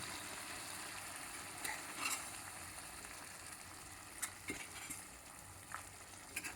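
Mutton and vegetable pulav is mixed in a pot, giving a faint, continuous sizzle punctuated by scattered scraping and clinking strokes of a utensil, more frequent toward the end.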